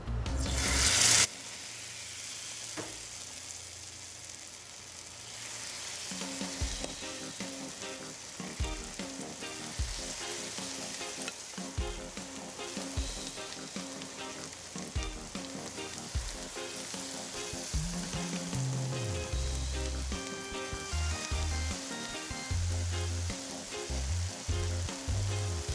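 Turkey bacon fritter batter drops by the spoonful into a pot of hot oil, giving a loud continuous sizzle and crackle with repeated spoon knocks and scrapes throughout.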